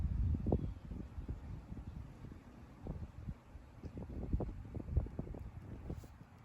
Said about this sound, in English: it's the wind and the breeze